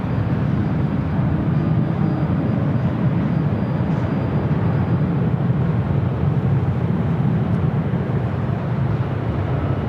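An airliner rolls down runway 24 left at LAX on its takeoff run, a steady, continuous low rumble of jet engines at moderate distance with no voices over it.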